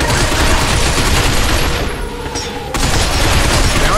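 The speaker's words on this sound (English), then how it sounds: "Stop them by shooting their legs." Dense, loud gunfire shooting robots in the video game Binary Domain, a near-continuous barrage of rapid shots across the whole stretch with a brief dip in the middle before the firing resumes.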